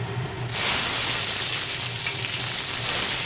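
Panch phoron spices and tomato hit hot oil in a pan and burst into a loud, steady sizzle that holds evenly through the rest of the stretch, close and continuous, with no talking.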